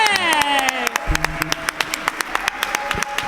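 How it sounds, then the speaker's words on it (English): An awards ceremony audience claps in a brief burst of applause, sharp uneven hand claps over a faint room murmur, with a rising tonal sweep at the start. "we give you a massive round of applause"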